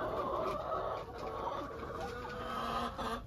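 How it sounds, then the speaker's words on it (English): Chickens cluck and murmur steadily at close range, a continuous low chatter of several birds with no talking. "Just spending the morning with the chickens."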